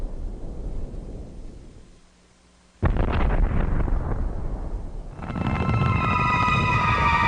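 Asteroid explosions in the atmosphere over Mexico filmed from the space shuttle: a rumbling roar, then a sudden loud booming blast that rolls on and is followed by a sustained, tonal roaring rumble.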